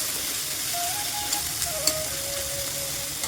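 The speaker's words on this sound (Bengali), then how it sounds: "একটু হালকা আঁচে দিয়ে পেঁয়াজটা ভাজা হতে হতে হয়ে যাবে।" Onion and potato frying in a pan over a low flame make a steady, close hiss and sizzle, with a few faint clinks and no talk.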